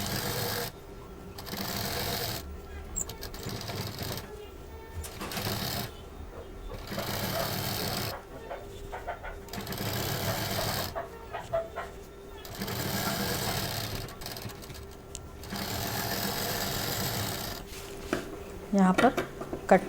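A sewing machine stitches around the rounded lining of a small fabric handbag, running in repeated bursts of steady mechanical chatter with short pauses between runs, close and moderately loud, with brief handling noises in the gaps.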